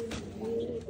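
A Rajshahi Giribaz pigeon gives one short, soft, low coo close by.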